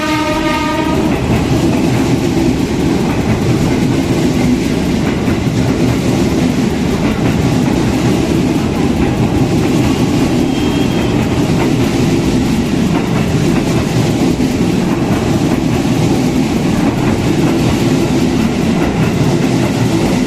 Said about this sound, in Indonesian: Jalur 3-nya melintas langsung KRL.